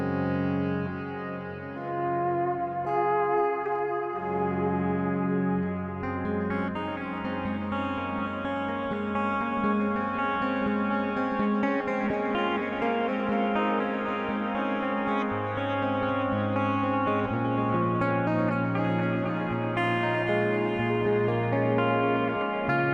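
Clean electric guitar notes run through cascading delay and reverb ring out and overlap into a wide, lush ambient wash that sustains without a break.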